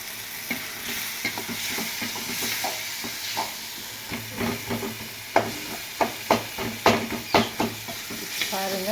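Crushed tomatoes frying for tomato chutney, a low bubbling sizzle with stirring scrapes that build into a run of loud, rhythmic spatula knocks against the pan.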